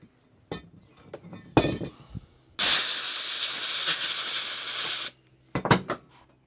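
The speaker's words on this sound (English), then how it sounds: "Let me just blow that off with my air compressor very quickly." A burst of compressed air from an air compressor blows across the carburettor of an Atco Balmoral/Allett Kensington 14SK mower, a loud steady hiss lasting about two and a half seconds, bracketed by short clinks and handling noises.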